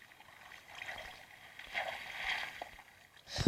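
Flowing water trickles and gurgles in Minecraft, a soft, uneven splashing that swells and fades over a few seconds, quiet and alone without talk.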